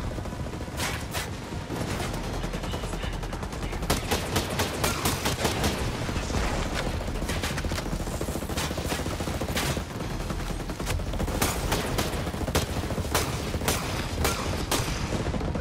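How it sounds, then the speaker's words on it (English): Continuous bursts of automatic gunfire in the video game Ghost Recon Breakpoint, with rapid volleys of loud shots and heavy booms filling the whole stretch, dense and relentless. "I shot him almost a bunch of times in the freaking chest."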